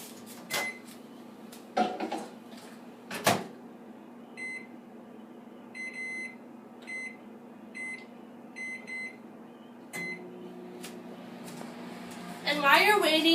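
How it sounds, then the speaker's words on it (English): Microwave oven warming a bowl of butter and marshmallows, with a steady hum running under the door sounds and a series of short electronic beeps from the keypad, followed by clattering near the end. "And then you want to put it in the microwave for 2 minutes."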